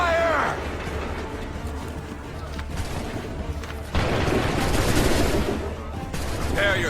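Musket volleys firing in Assassin's Creed 3, bursts of dense crackling gunfire with a heavier blast midway, under shouted commands and battlefield noise.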